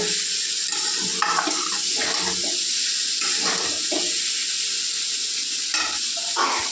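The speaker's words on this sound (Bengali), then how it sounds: "অল্প তেল দিয়ে ভাজতেছি" Vegetables frying in a little oil make a continuous close sizzle and hiss, with occasional stirring clatter and no talk over it.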